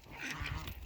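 Farm geese give a brief, faint honk or quack-like call at a distance, lasting under a second over low background noise.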